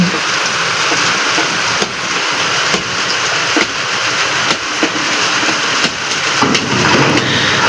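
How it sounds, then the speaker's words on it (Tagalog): Heavy rain pours steadily and loudly without a break, a dense continuous wash of drops drumming on surfaces, with a few faint thumps scattered through and no voices. "Simula kagabi magdamag umuulan. Sobrang lakas."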